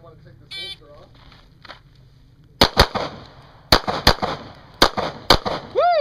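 Pistol shots at an outdoor concealed carry match ring out in sharp, loud cracks, first a close pair and then a rapid string of single reports, after some quiet background with brief voices and faint beeps.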